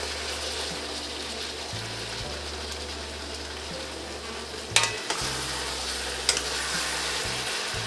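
Eggplant for a Chinese-style dish fries and is stirred in a pan: a continuous sizzling hiss broken by a couple of sharp utensil clunks, with no voices.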